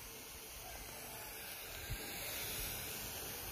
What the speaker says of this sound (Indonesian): Nah, ini sederhana begini, semprotkan terus.